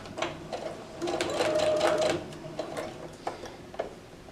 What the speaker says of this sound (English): sewing machine, this is what we're doing. So I'm going to stitch all the way down